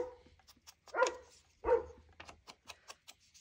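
Dog barking outside at dusk, two distinct barks a short gap apart, faint and distant, followed by quieter small clicks and yips.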